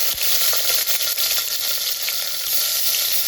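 Onion sizzles and fries in hot oil with cumin for a black-eyed bean curry, a loud, continuous crackling hiss close by, with occasional stirring scrapes.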